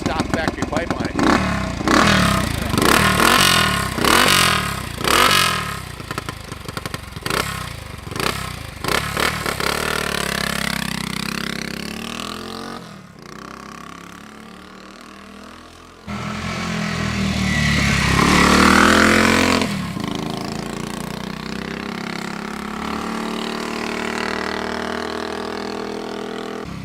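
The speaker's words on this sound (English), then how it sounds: "This thing sounds awesome with stock factory pipe on it." A 1971 Harley-Davidson Aermacchi Sprint 350 single with its stock factory exhaust pipe barks through a series of sharp throttle blips, then settles into a steady run and rises in one longer rev, loud and close.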